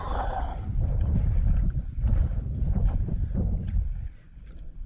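Strong wind buffets the microphone beside a small creek while bass and crappie fishing, a loud continuous low rumble and roar that surges and then eases near the end, with no one speaking.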